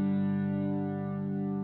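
A sustained, swelling electric guitar chord washed in heavy reverb and delay, holding steady and slowly fading, with no talking.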